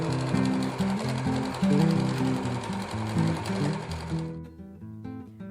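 A sewing machine stitches confetti quilt embellishment over nylon tulle, its needle running in a fast, steady close-up whir that stops abruptly near the end.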